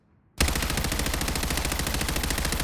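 A meta loadout gun in Warzone opens up abruptly after a brief quiet moment, then fires a loud, unbroken stream of rapid automatic shots that carries to the end.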